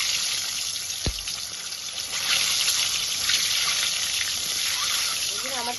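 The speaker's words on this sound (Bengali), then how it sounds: "এর সাথে আমি ভেজে নিচ্ছি ডিম।" Duck eggs fry in mustard oil with turmeric and cumin, giving a steady close sizzle and spatter that runs throughout, with one brief knock near the start.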